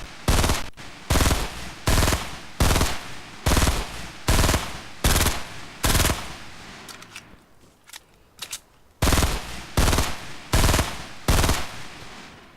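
Automatic gunfire from the Fortnite video game, aimed at a built wall: repeated loud bursts of rapid shots in a steady rhythm with brief gaps, a quieter rattly stretch midway, then more bursts.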